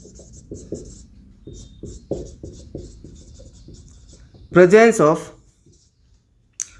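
Chalk or marker taps and scrapes on a board in short irregular strokes, close and crisp, with a brief burst of speech partway through.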